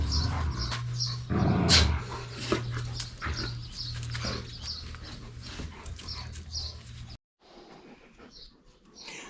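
Dogs moving about and sniffing in a small back garden on a sunny April Sunday morning, their close rustling and snuffling continuing steadily, with a brief louder scuffle near the start, then quieter outdoor ambience.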